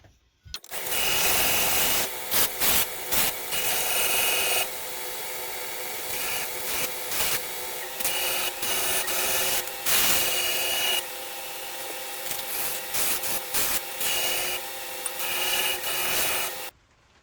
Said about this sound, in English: now that we've taken the time to clean up the handle scales and sand those up